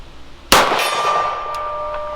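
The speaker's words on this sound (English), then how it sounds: "See if I can make the gong ring at all." A pistol round fired from a Kimber KDS9c strikes a steel gong at an outdoor range, producing one sharp metallic clang followed by a sustained, slowly fading ring.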